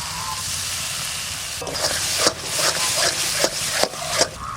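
Cashew paste frying in spiced oil for an egg korma, a steady broadband sizzle with a burst of louder crackling and repeated scraping stirs partway through, close and fairly loud with no talking.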